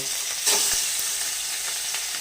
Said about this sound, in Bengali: মাছগুলো ভাজছি